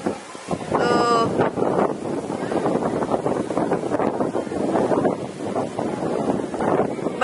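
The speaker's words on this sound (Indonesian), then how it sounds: "Anginnya kencang banget, gila." Strong wind buffeting the microphone on a beach at dusk in Marina d'Or, Spain, loud gusty rumbling throughout, with people talking in the background.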